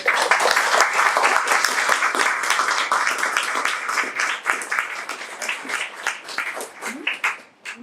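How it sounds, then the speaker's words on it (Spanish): An audience at a library talk on Atacameño forest practices claps warmly, a lively burst of close applause that gradually thins and fades toward the end. "Un aplauso para todos."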